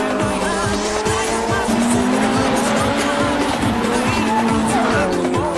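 Cars drifting on a Japanese mountain touge road, tires squealing continuously over roaring engines, loud and close throughout without pause.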